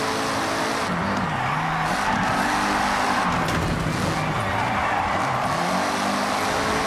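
A rally car in Forza Horizon 6 sounds loud and constant throughout a rally trial. The engine warbles up and down as the tires scrabble and skid over loose ground, and there's a faint voice mixed underneath.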